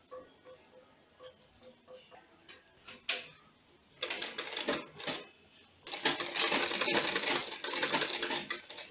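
A sewing machine stitches pleats into a fabric sleeve, starting with scattered ticks and short bursts, then running in two sustained rattling stretches, close and clear.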